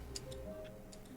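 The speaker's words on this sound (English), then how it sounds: "That clock ticking." A clock ticks steadily in the video game The Stanley Parable, soft regular clicks close by in an otherwise quiet room, no voices.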